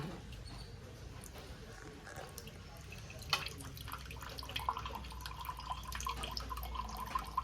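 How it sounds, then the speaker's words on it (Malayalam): Water trickles and drips from a hand-made sugarcane juice machine into a glass, a soft steady splashing under faint background noise. "എവിടെ ഒഴിച്ചാലും വെള്ളം ഗ്ലാസ്സിലേക്ക് തന്നെ എത്തുന്നുണ്ട്"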